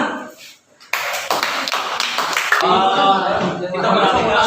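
A classroom of students bursts into short applause that lasts under two seconds, then gives way to lively chatter and a raised voice.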